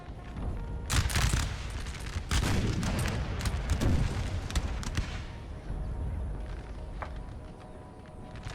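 8-pounder artillery in the video game Napoleon Total War booms repeatedly amid crackling musket fire. The deep, loud blasts cluster in the first half and fade toward a rumbling battlefield background.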